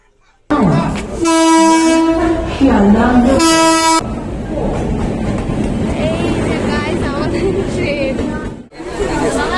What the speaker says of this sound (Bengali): তোমার ট্রেনের অ্যানাউন্সমেন্ট কিন্তু হয়ে গেছে তো ট্রেনটা আসুক